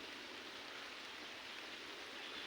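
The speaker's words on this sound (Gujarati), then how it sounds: "ધીમે ધીમે વરસે છે ભાઈ." Light rain falls steadily, a soft, even hiss that stays faint and constant with no voices.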